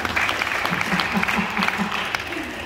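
A church congregation applauds God in a dense, steady wash of clapping that runs the whole time, with voices calling out within it.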